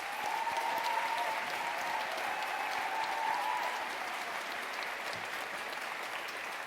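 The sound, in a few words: graduation ceremony audience applause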